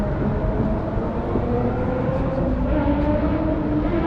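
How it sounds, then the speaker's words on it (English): An old blue and white tram rumbles past on a Wrocław street as a steady, loud, broadband roar with a low grinding hum and no speech. "That was the old tram, the blue and white."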